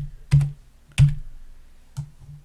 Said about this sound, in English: So I'm just going to type in cable